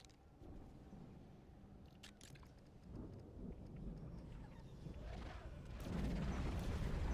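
Thunder rumbles and rolls in a rainy storm, a low continuous roar that swells louder toward the end, with rain hiss and a few sharp crackles, and no talk.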